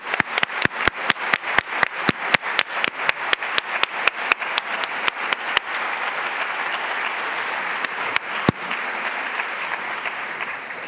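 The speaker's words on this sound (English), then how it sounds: "we give a large round of applause to Ambassador Rice and John Rice." An audience honors Ambassador Susan Rice and John Rice with applause at a Yale Chubb Fellowship event, starting as strong, rhythmic unison clapping that loosens into a steady, dense wash of many hands, with a few sharp loud claps near the end.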